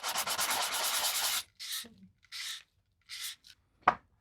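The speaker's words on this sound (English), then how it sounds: "level it out, and then go in with the sandpaper" Sandpaper rubs across the back cowl of a Dredd Lawgiver prop. A long, steady, close scraping stroke comes first, then several shorter, separate rasping passes and a sharp tap near the end.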